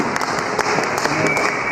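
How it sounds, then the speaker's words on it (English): Audience applause at a panel debate evening, a dense steady wash of clapping from a seated crowd throughout, fairly loud and continuous without distinct individual claps. "Give us a round of applause."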